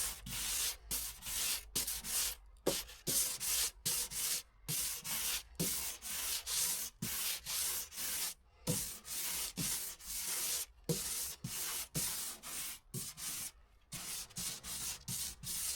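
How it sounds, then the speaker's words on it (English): Body filler on a car fender is worked with 120 grit sandpaper, a loud, steady scratchy rasp in rhythmic back-and-forth strokes with short pauses between passes, close up and without talk. "Now it's time to sand the filler. Start with a coarse grit 120 to shape the area and remove the high spots."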